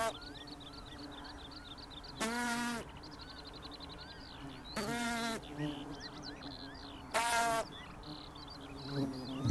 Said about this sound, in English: The buzzing noise soon attracts others.